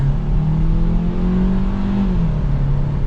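A 2024 Hyundai Kona N-Line AWD compact SUV engine revs and pulls away, its steady drone rising in pitch and holding loud and close throughout.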